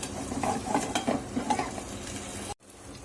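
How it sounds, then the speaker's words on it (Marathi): Green chillies roasting in a pan over a low gas flame for Solapur-style chilli bhaji, a close steady sizzle with repeated scraping stirs and light utensil clinks, ending with an abrupt cut. "आपल्या मिरच्या आहेत ना छान अशा भाजून घेणार आहे मंद गॅसवरच"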